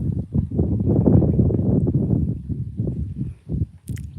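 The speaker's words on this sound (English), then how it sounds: "I don't know how well you're going to hear me because it's quite windy" Steady wind buffets the microphone at Martham Boatyard on the Norfolk Broads, a broad low rumble with gusts rising and falling, and a brief high rustle near the end.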